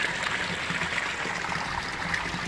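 Hot spring water flows steadily from a public thermal fountain, a continuous close rushing and trickling wash that stays even throughout with no voices.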